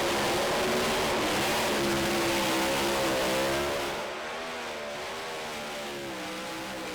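A doorslammer drag racing car's engine roars loudly and steadily at Santa Pod, then drops off to a lower, fading drone as it pulls away.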